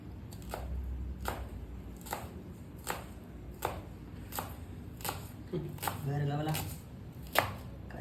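At a street food stall in Food City at midnight, a knife chops food on a board in evenly spaced, sharp strikes about once a second, with a short voice heard among the cuts.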